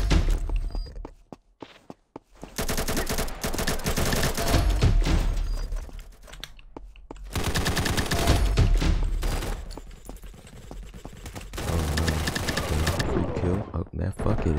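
Bursts of video game gunfire from a shooter, loud, dense crackling volleys in several stretches separated by brief quiet gaps, with a player talking over parts of it.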